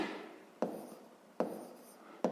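Numbers written by hand on paper, a soft continuous scratch broken by three sharp taps of the pen spaced under a second apart, close and quiet with no talking.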